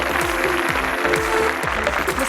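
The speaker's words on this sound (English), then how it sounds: "Another round of applause, ladies and gentlemen." Applause from an awards ceremony audience for a facade and fenestration excellence award, even clapping with a few distinct claps standing out, heard alone.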